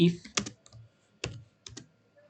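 Code being typed on a computer keyboard during a programming class. A few short, scattered clusters of key clicks sound close and fairly quiet, separated by brief pauses.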